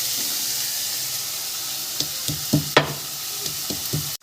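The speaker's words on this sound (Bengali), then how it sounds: "পেঁয়াজগুলো ভাজা হোক" Onions sizzle steadily in a hot pan, with a few clanks and scrapes of a utensil stirring toward the end.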